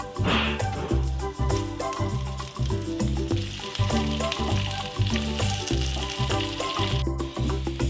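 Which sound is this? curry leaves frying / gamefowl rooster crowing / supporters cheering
curry leaves frying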